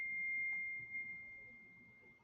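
An Android phone ringtone sounds as a single sustained pure electronic tone, steady and fairly quiet, held throughout over faint background noise.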